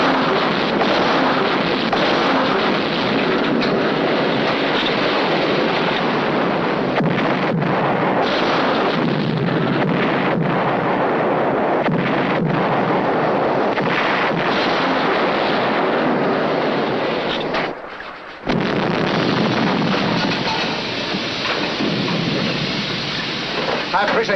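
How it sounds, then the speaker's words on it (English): Underwater depth charge explosions in a 1950s war film, a dense, loud, continuous roaring rumble like heavy rain and thunder that drops out briefly before resuming. "Fire full depth charge pattern."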